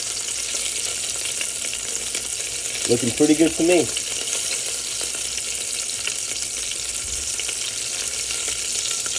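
Meatballs sear in a hot pan for spaghetti and meatballs, a loud, even sizzle running throughout, with a brief stretch of speech partway through.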